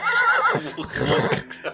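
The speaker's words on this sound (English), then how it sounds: "Oh, it's a horse" A horse pulling a delivery cart gives a loud, wavering whinny that rises and falls for about half a second, followed by scuffling and muffled activity nearby.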